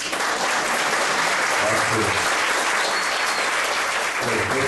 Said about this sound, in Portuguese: As palmas por Luizinho também, né?